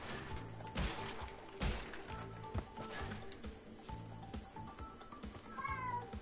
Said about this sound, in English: Oh yeah, our cat's meowing. He wants to go inside my mom's room.